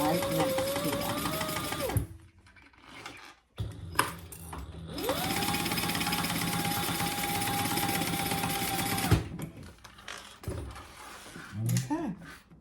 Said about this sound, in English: I'm just sewing right next to them.